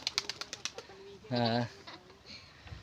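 A quick flurry of wing flaps as two pigeons take flight from a loft, a burst of rapid beats, followed by a short low coo and a faint voice nearby.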